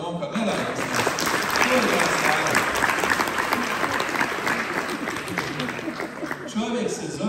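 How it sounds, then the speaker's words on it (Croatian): A crowd claps loudly and steadily for a boy in an audience, dense applause with a few voices and light laughter mixed in. "dajte aplauz za momka"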